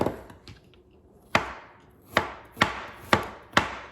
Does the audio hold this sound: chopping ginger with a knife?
yes